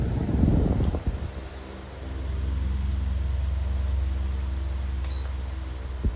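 Comfort Zone 16-inch wall fan oscillating, its loosely fitted blade rattling in a steady low hum that runs without pause after a brief louder clatter at the start.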